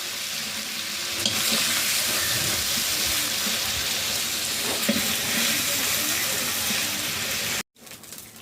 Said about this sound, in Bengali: এটা আষ্টে ভাব কাটানোর জন্য ভেজে নিলাম।